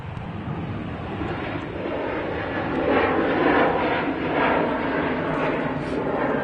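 A TUI airliner on its takeoff roll at Manchester Airport gives a steady, loud engine roar that swells in the middle as it accelerates past, heard at a distance across the field.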